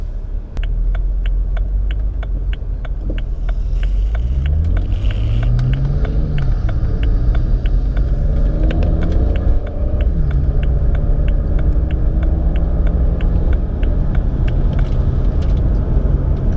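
A BMW 335i E90 with an automatic transmission drives at light partial throttle in sport mode, its steady engine drone rising in pitch through the gears with a continuous low rumble and road noise, heard close and loud without talk.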